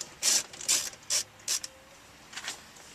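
Screws on the driver's side bottom panel of a Honda CR-V being loosened, several short bursts of ratcheting clicks with brief pauses between them, close and fairly crisp.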